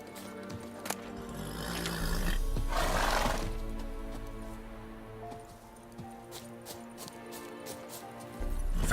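Roach, the horse in The Witcher 3, gives a loud neigh under steady ambient game noise and faint hoofbeats.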